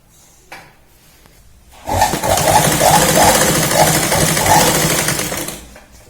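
A sewing machine stitching salwar fabric starts up after a couple of faint handling knocks, then runs loud and close for about four seconds with a steady rapid whir and rhythmic pulsing, before winding down.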